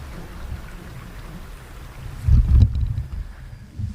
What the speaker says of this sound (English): rain's starting to come down